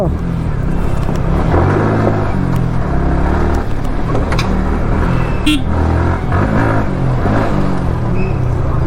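Dense, heavy road traffic during Diwali in Himachal, with car engines droning and revving steadily alongside scattered honks, loud and continuous, while someone talks over the noise.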